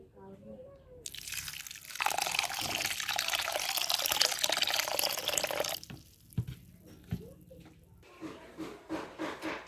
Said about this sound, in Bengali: শুরুতেই ভাতগুলো জল দিয়ে ধুয়ে নিব।